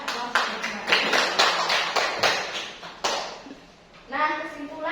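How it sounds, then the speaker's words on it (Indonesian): A classroom of children applauds with a short burst of clapping that fades out, followed by a teacher speaking. "Berikan aplaus untuk Mbak."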